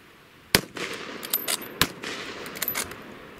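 Lee Enfield SMLE rifles fire in 1914-style musketry drill, a string of sharp, separate cracks at irregular intervals, several rapid shots following one another over a quiet background.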